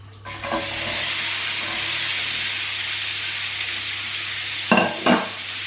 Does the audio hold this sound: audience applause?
no